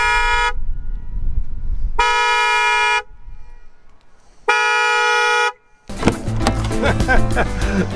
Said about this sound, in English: it should honk the horn and flash its light